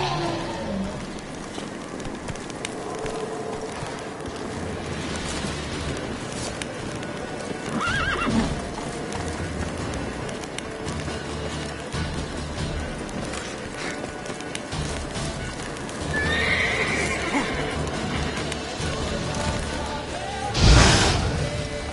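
Hooves of Roach, the horse in The Witcher 3, clop steadily through a long ride, with a few neighs along the way and a sharp, loud whinny near the end.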